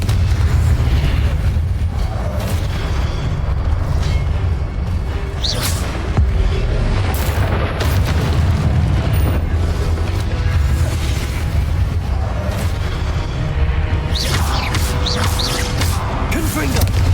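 Confringo blasting spells going off in Hogwarts Legacy, with heavy booming explosions rolling into each other over a dense, continuous roar of combat noise, loud throughout with sharper bursts near the end.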